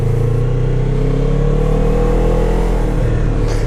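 A motorcycle engine with a sticking throttle cable, revving loud and close in a sustained high drone that barely drops, heard alone with no talk.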